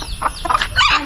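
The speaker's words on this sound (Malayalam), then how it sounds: "നല്ല കുതിർന്ന ശേഷം കോഴികൾക്ക് ഇട്ട് കൊടുക്കുക" Country chickens cluck close by as soaked wheat is scattered for them, a quick run of a few short, bright calls.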